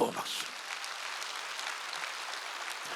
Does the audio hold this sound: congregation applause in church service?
yes